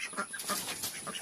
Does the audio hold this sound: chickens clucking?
yes